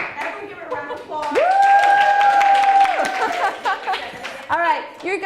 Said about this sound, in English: Everyone give it a round of applause.